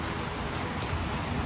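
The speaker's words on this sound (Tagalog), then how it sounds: "Ayan, paulan na." Rain begins to fall outdoors with a dense, steady hiss of drops that stays even throughout, with no voices.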